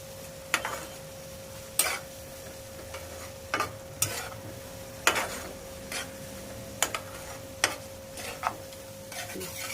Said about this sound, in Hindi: इस तरह से मसालों के साथ में इसको और भून लेते हैं टमाटर प्याज को।